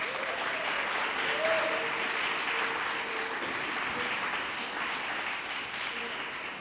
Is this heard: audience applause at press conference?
yes